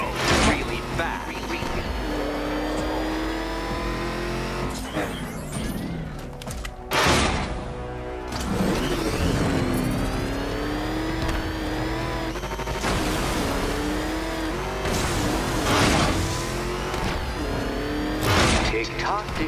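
Batmobile in the Batman Arkham Knight video game, its engine revving and roaring in repeated rising surges with tire skids and whooshes, while voices talk over the driving.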